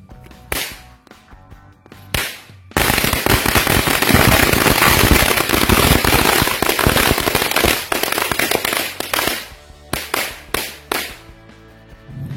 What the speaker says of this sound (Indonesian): yang pertama kita nyalakan 5 gepok sekaligus mercon korek